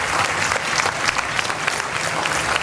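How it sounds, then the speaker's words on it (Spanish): A dense, steady burst of applause from a crowd at a patronal festival singing and dancing contest in Tejutla fills the space evenly, with no pause and little sign of talk. "Pido un aplauso para ustedes, público y participantes de esta fiesta."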